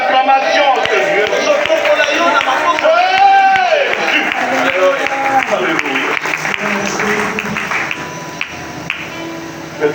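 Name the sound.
congregation applauding and acclaiming in worship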